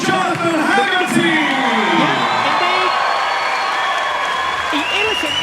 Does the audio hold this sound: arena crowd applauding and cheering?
yes